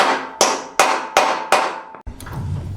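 Steel anchor bolts for a two-post Atlas car lift being hammered into a shop floor, four loud ringing metallic strikes at an even pace, each decaying quickly, followed by a duller knock and low rumble.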